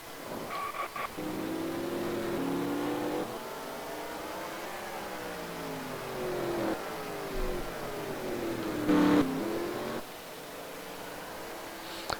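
Pro Cup race cars lapping at Infineon during a sim racing event, engines whining and shifting pitch continuously as they rev and pass, a steady loud drone with a brief surge near the end.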